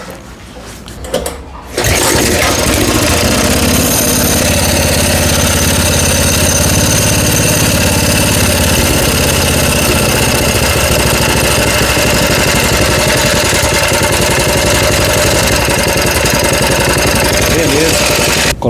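A 212cc engine on a homemade bike pusher starts up and runs steadily with a loud, constant mid-pitched drone close by. A brief quieter stretch comes before it catches.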